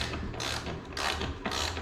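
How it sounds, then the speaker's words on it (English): A ratchet clicks in three quick bursts while tightening the bottom bolt on a wheelchair door of a 2002 MCI bus conversion, close and fairly quiet. "when I go ahead and tighten the bottom one in, it pulls it very nicely"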